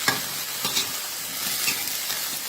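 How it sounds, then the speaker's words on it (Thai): Lotus seeds being stir-fried in a pan, with steady close sizzling broken by several soft scraping strokes of a spatula over a couple of seconds. "ผัดไปเรื่อยๆจนกว่า ไข่บัวจะยุบนะคะ"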